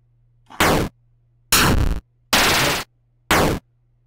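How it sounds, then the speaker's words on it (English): Four separate bursts of a downloaded shooting sound effect for a SpriteKit Invaders arcade game, each a short, loud, noisy blast with near-silence between them. "So I've downloaded a couple of sounds, one shooting, one exploding."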